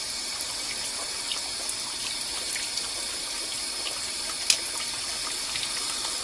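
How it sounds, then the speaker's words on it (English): Cold tap water runs steadily over a pressure cooker holding stuffed cabbage with bacon, a continuous hissing splash with a single brief knock midway and no voices. "I've got cold water running on it."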